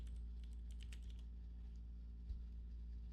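Quick, light keystrokes on a computer keyboard come in a short burst and then taper off, faint and close.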